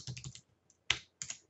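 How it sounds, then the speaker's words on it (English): Quiet computer keyboard typing in short bursts of a few clicks, with a brief pause between them, close to the microphone. "And I can start typing,"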